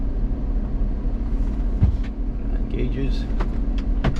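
A van on a test drive gives a steady low engine and road rumble throughout, with brief clicks and rattles inside the cab and someone speaking a word over it.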